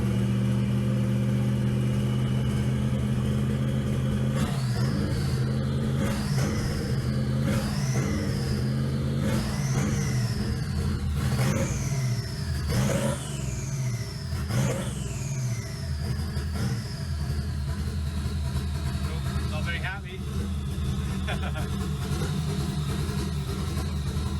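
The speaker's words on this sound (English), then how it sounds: "So with the engine now in and running" A throaty 1UZ V8 engine fitted in a Ford Focus idles steadily up close, with a series of quick revs rising and falling in a regular pattern.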